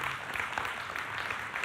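Audience applause fills a church sermon gathering, a dense, steady wash of many hands clapping at moderate distance with no clear individual claps standing out.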